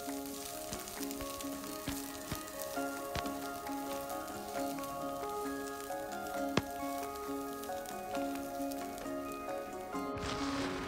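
Oil sizzles and crackles steadily in a pan as a tempering fries for a fenugreek leaf dish, with scattered pops and a brief clatter near the end, heard close.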